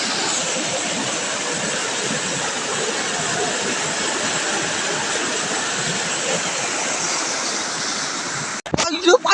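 A Konkan river rushes steadily with a loud, broadband flowing roar that fills the clip, ending with a few abrupt knocks.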